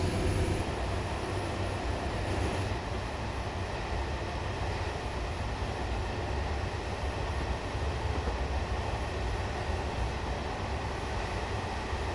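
A train runs on the Met line in Train Sim Classic, giving a steady, loud rolling rumble with a broad wash of mechanical noise that holds unchanged for the whole stretch, with no voices over it.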